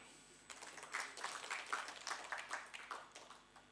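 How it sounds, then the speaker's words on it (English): Audience applauding playwright Mahesh Dattani at a master class, a faint, fairly small round of clapping that starts after a brief pause and continues steadily for about three seconds. "We should clap for that."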